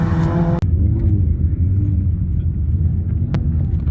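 A twin-engine Class 10 Autograss race car engine, a loud, steady rumbling drone heard up close, with a brief dip near the start.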